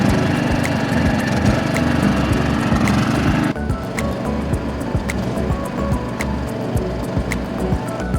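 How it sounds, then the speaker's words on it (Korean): An EX Power ultralight inverter generator, pulled to life by its recoil starter, runs with a loud steady engine drone that drops to a quieter even idle partway through, accompanied by faint ticking and clicks, without speech. "리콜 스타트를 잡아당겨주시면 돼요. 시동 바로 걸어보겠습니다."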